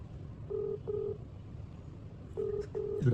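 Telephone keypad dialing tones for a prank call: four clean beeps in two pairs separated by a pause, over faint background noise.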